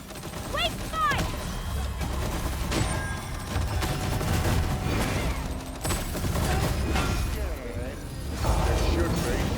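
Video game battle gunfire from the Dragon's Dogma 2 finale: rapid clattering shots and impacts layered over music and game sounds, with brief voices cutting through.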